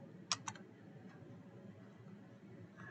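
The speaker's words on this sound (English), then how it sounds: "Dimension it by hitting the D key and clicking on it." Two crisp computer keyboard key presses and mouse clicks, close together near the start, quiet against a low room hum while a phone stand is modelled in CAD software.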